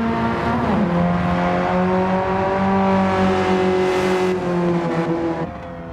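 A Sileighty car engine in Gran Turismo 7 holds a loud, steady drone, stepping down through a gear change, then rising and revving before cutting off sharply near the end.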